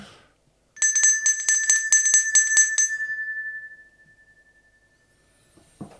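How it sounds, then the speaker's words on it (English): A bell is struck about nine times in quick, even succession, each bright metallic ring layered over the last, then one clear tone hangs and slowly fades to silence. "I'll give you the honor to ring the bell."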